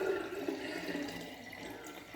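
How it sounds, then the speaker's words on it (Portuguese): Water pours steadily into a half-full bottle while lemonade is being made by hand, a continuous splashing trickle close by with no voice. "Primeiro eu vou pôr água"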